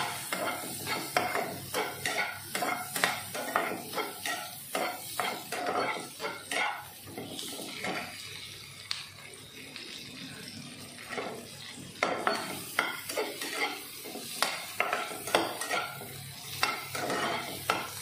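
Okra and onion frying lightly in a pan, with a steady sizzle under repeated stirring scrapes and clinks of a utensil against the pan, close and continuous, with no talking.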